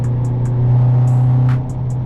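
A Honda Civic Si sedan with an HKS exhaust drones at a steady low pitch while cruising under light throttle, a constant cabin hum that swells slightly and then eases.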